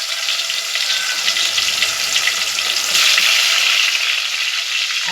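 A paste of ginger, garlic, coriander and tomato fries in a pan, a loud continuous sizzling hiss with bright crackle that swells slightly midway, steady and close with no voices.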